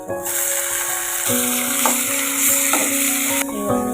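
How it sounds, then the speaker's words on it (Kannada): Onions and curry leaves fry in a pan with a steady sizzle while a spoon stirs and scrapes. A tonal whine hums underneath, and the whole sound is close and moderately loud. "ಸ್ವಲ್ಪ ಅದು ಈ ಥರ ಫ್ರೈ ಮಾಡ್ತಿದ್ದೇನೆ"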